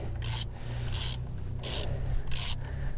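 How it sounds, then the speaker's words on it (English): A heavy-duty socket wrench turns on a Toyota FJ40, giving four evenly spaced bursts of ratcheting clicks at close range over a low steady hum, with no voices. "So this socket wrench is definitely a heavy duty bugger."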